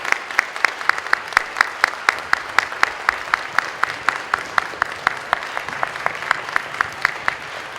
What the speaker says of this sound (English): we'll give one more round of applause for these fine young